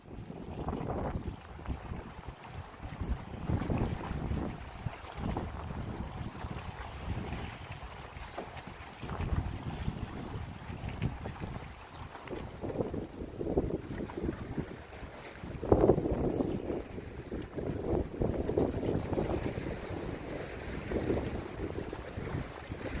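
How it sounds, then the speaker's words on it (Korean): Strong wind buffets the microphone in heavy, rumbling gusts at a seaside fishing spot on Geumodo island, South Korea, rising and falling continuously with a low roar and no voices. "지금 바람 소리만 들으셔도 대충 강도를 아시겠죠?"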